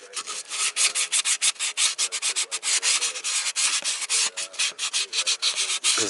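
A worn gasket is scraped from the flat face of an impeller housing on a Volvo Penta MD22L marine diesel, with close, rapid back-and-forth rasping strokes in a steady rhythm throughout, no voices.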